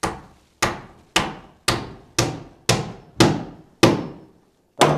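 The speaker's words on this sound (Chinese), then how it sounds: "板子和板子交接的位置还是要用钉子这样子把它固定起来" Wooden floorboards on the third floor of a rural self-built wooden house are nailed down with a hammer, eight sharp, evenly spaced blows with short pauses, close and loud with no talk.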